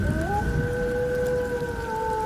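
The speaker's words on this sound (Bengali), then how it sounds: "চারপাশে মুষলধারে বৃষ্টি পড়ছে।" Heavy rain pours in a steady, dense wash, with a sustained tonal drone running over the downpour.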